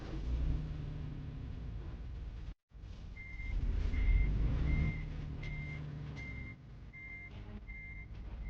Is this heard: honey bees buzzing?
no